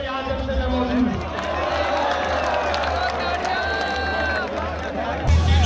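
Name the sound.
crowd applauding at a political rally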